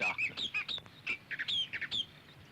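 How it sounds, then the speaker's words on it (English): A reed warbler sings in a marsh with a quick burst of harsh, chattering, squeaky notes in short irregular phrases, fairly close and alone. "The reed warbler is the nightingale of the marsh. Singing on summer nights, it keeps the marshes alive"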